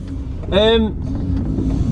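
Steady low rumble of a car's interior while driving, a constant engine and road drone with a person's voice briefly speaking over it midway.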